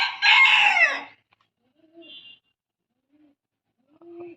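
A rooster crows once, fairly loud, in a backyard coop beside pigeons and other farm birds, followed by a few soft, faint clucks and chirps in near silence.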